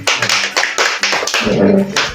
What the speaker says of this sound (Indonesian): Kita tepuk tangan buat kakak Reza doang.